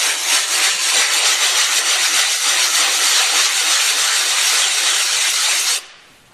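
Crosscut saw part being rubbed back and forth on a carbide sharpening surface, a continuous bright scraping hiss lasting about six seconds before stopping abruptly, close and alone.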